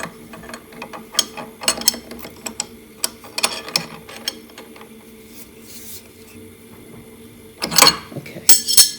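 A hand wrench ratchets while tightening a part on a machine, giving repeated short clicking bursts at close range, with a louder cluster of metallic clicks near the end.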